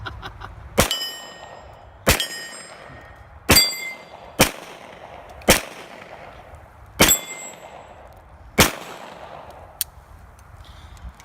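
Seven pistol shots from an RIA Pro Ultramatch .40 ringing off steel targets at a shooting range, each a sharp clang with a metallic ring, spaced about a second or so apart, fairly distant with no talking.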